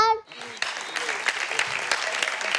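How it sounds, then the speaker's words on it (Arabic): Audience applause for a young girl contestant on a Tunisian TV game show, crisp claps building after a short voice at the start and continuing steadily, fairly close and moderately loud. "تصفيقة كبيرة برشا على صغرونا مرام"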